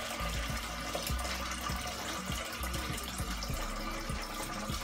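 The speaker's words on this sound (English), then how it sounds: "put water" Water poured into a cooking pot from a tap while preparing pancit canton at home, a steady close splashing stream with a fairly constant level throughout.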